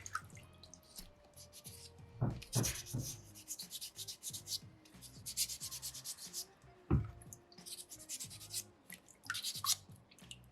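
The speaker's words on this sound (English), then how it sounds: "really tuck it in there, really try and be as effective as possible when I'm sanding with sandpaper number 2" Folded sandpaper rubs and scrapes over a soapstone loon carving in short, uneven close strokes, with a few sharper louder passes and quiet gaps between, and no talk.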